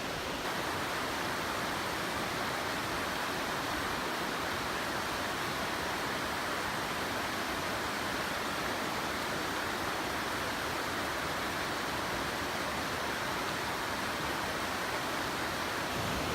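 Waterfalls along the Goshen Prong trail in the Great Smoky Mountains: a steady, dense rushing roar of falling water that holds unchanged throughout, with no voices.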